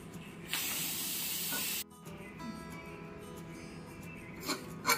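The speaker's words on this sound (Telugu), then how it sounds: "ఈ ప్రెషర్ అంతా పోయిన తర్వాత మూత తీసి చూద్దాం." A pressure cooker holding egg biryani releases its steam after three whistles, a loud, sharp jet of hiss that cuts off abruptly, followed by softer kitchen sounds and a couple of brief final bursts.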